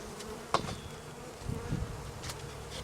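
Honeybees from a swarm-captured colony at a hive, fed on a pollen patty, buzz in a faint, steady drone, with a few louder passes from single bees flying close by.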